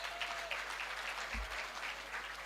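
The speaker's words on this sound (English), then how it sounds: "can we also give them a big round of applause?" Audience applause at a university vice chancellor's excellence awards ceremony, a steady dense clapping from a crowd that fills the whole stretch at moderate level, with no voices on top.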